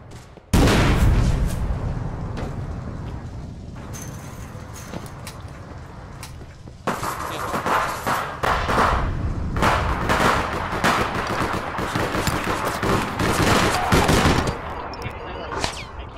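Gunfire in APB Reloaded while shooting through a wall: loud, rapid automatic bursts, a short pause, then sustained firing close up for the rest.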